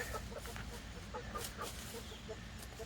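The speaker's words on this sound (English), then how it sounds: "Chickens are doing good." Chickens cluck in a backyard run near their feeder, short soft calls scattered over steady low background noise, fairly close but not loud.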